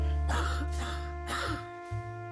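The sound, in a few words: character coughing in video game Lovecraft Country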